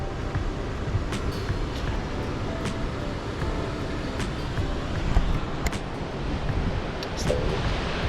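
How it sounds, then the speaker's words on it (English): Cascading waterfalls and pools of the Edith River in Nitmiluk National Park, with plenty of water flowing: a steady, broadband rushing roar that holds constant throughout, close and continuous with no talk. "right now there's plenty of water flowing through here"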